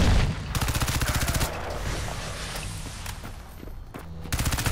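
Rapid automatic gunfire in the shooter Crysis 2 comes in loud, close bursts at the start and end, with scattered shots and game noise in between.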